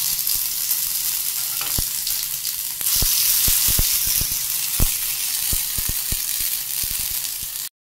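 Vegetable tikki frying in a pan, a constant hissing sizzle with scattered sharp clicks and scrapes of stirring, close and alone.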